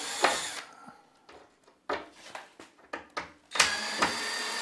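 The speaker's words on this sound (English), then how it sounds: "since I've got my old Phillips head screws, heaven's sake, let's use them again. And we'll run a couple screws in." A power driver runs Phillips head screws into a deer head mount in a taxidermy shop, giving several short close whirring bursts separated by pauses.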